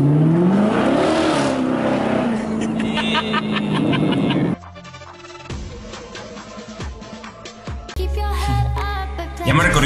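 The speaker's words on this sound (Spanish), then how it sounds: "a ver si alguien conoce este coche" A car engine revs hard in Los Angeles, its pitch swinging up and down, before the sound gives way to a busier, mixed stretch of driving noise and background sounds, with people talking over it.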